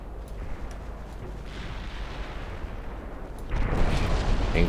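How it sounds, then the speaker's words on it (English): Battleship main guns firing in the naval strategy game Ultimate Admiral Dreadnoughts, heard as a low rumbling roar of distant booms that swells into a louder, heavier salvo near the end. "Includes using my battleship main guns."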